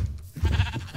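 A single sheep bleats in Minecraft, a short wavering low bleat heard clearly and alone.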